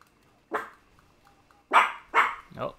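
A dog in the Call of Duty: Black Ops Rebirth game barks four times: one sharp bark, a pause, then three quick loud barks in a row, close by over quiet game ambience.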